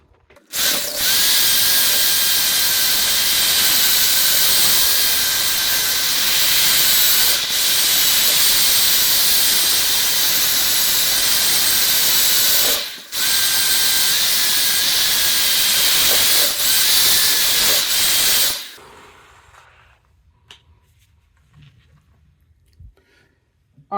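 A power sander with a sanding disc grinds against a stock brake rotor while refinishing it to a mirror finish, a loud continuous high whir that dips briefly midway and then cuts off, leaving near silence.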